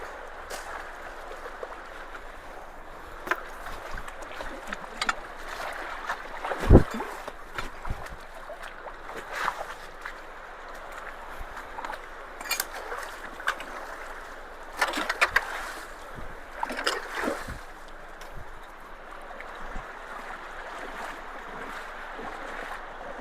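Water rushing steadily through a culvert that had been clogged, a soft continuous wash and gurgle outdoors with occasional splashes and knocks.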